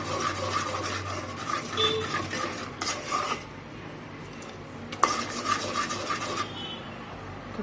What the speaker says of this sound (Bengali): এই যে দেখুন ডালটাকে একটু নেড়ে দেবো এরকম করে